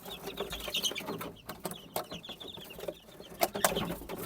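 Young chicks of a Boston Roundhead cross peeping and cheeping, with repeated small high calls over a soft background of farmyard clucking, no speech.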